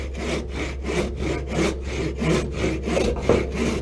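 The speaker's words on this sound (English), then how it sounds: "I'm laying the saw right against it. And I'm just gently sliding back and forth." A hand saw cuts a 45-degree miter through a wooden board with a steady back-and-forth rasp, each stroke a distinct rhythmic pulse, close and fairly loud, no one talking.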